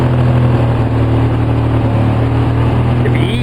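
A 2004 Polaris Sportsman 700 ATV engine idling on choke with a rough idle, a loud, steady, close-up drone with a low hum that stays even throughout.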